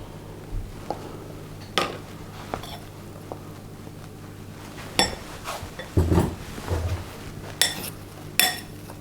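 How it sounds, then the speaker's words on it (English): A utensil mixes oatmeal muffin batter in a bowl, making soft scraping and scattered clinks against the bowl, fairly quiet and close. "And then we'll mix that together."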